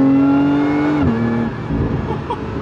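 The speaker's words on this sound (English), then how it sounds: "the 6-cylinder actually sounds really good. It's got these little backfires and that supercharger" A supercharged six-cylinder engine in a $100,000 sports car revs with a supercharger whine that drops as the driver lifts off, followed by burbling, crackling exhaust backfires close by.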